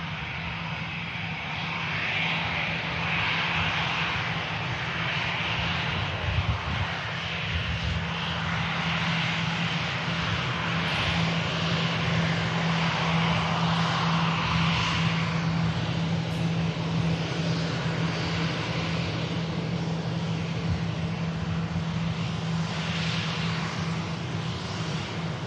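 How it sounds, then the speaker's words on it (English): A large airliner lands at Manchester Airport in a rough crosswind, its engines a steady, loud roar with a low hum that holds without a break. "Incredible job by the pilots there, landing in that pretty rough crosswind."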